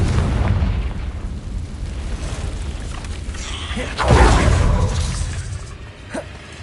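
Confringo spell explosions in a Harry Potter video game, loud rumbling booms and bursts over a constant roar, with a sharp blast around the middle followed by a lingering crackling tail.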